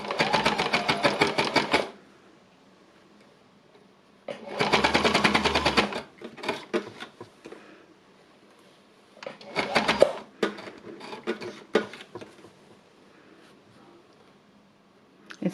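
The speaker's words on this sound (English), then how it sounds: "I'm going to actually get on with a bit of stitching next" A sewing machine stitches in loud bursts of rapid, steady whirring, each lasting a couple of seconds, with quieter stretches of handling and small clicks between runs.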